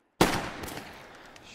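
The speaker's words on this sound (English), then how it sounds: "he's just shooting him" A single loud gunshot from a TV drama scene, an abrupt crack followed by a long reverberant tail and faint background sound.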